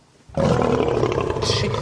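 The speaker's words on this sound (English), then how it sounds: "This is the sound of a lion." A lion roars loud and close, a sustained, rough, rumbling bellow that starts abruptly after a brief quiet moment and carries on unbroken.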